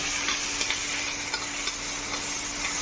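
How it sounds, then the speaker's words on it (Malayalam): Crushed ginger, garlic and onion sauté in hot oil for a chicken liver roast, giving a steady, close sizzling hiss throughout with a few faint clicks of stirring and no voices. "ഇതിലേക്ക് നമുക്ക് ചതച്ച് വെച്ചിരിക്കുന്ന ഇഞ്ചിയും വെളുത്തുള്ളിയും ഉള്ളിയും ഇട്ട് കൊടുക്കാം"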